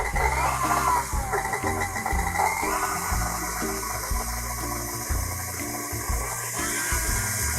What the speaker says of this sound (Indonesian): Nah, sekarang kita akan kocok dengan kecepatan rendah dulu.